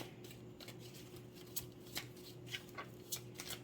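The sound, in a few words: shuffling large tarot cards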